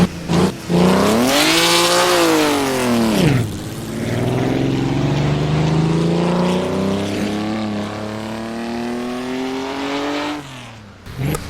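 An old Grand Prix car in the Assetto Corsa racing game pulls away from the pits, its loud engine note climbing and falling through gear changes before one long rising rev that carries on for several seconds and then cuts off.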